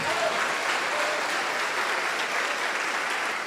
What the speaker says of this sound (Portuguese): Vamos dar uma salva de palmas para o nosso Pai.